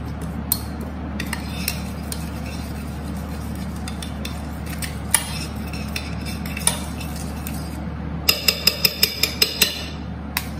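Vegetable and fruit salad being mixed in a bowl with utensils: steady low scraping and stirring throughout, with sharp metallic clinks scattered across it and a quick run of rapid taps near the end.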